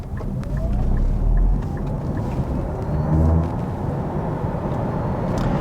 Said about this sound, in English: I will engage the drive mode that is Sport to have optimal acceleration